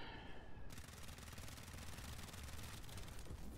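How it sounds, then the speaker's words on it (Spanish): Sustained machine gun fire in a video game battle, a dense unbroken stream of rapid shots that fills the clip loudly, with a brief gap in the highs at the very start. "Vale, y ahora ametralladora."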